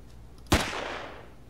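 A single gunshot in the video game Empyrion, one sharp close blast with a short decaying tail over quiet background.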